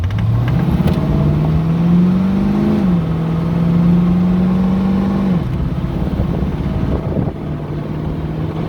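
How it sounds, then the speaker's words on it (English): A 1973 Ford Mustang accelerates hard, its engine note climbing steadily in pitch, dipping briefly at a gear change, then rising again before easing off, loud and close with some wind buffeting. "let's do an acceleration test and a heavy braking test"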